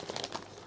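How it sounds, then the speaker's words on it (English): An ordinary plastic sandwich bag crinkles in quick, light rustles for under a second, close and soft, with no voices. "I will get an ordinary plastic sandwich bag like what I'm showing you right here"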